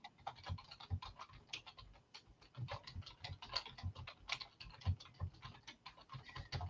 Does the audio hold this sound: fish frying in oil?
no